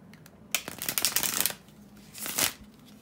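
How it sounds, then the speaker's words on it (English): Tarot cards being shuffled close by, two quick riffling bursts, a longer one followed by a shorter one, with a quiet pause between. "here to shuffle the tarot cards"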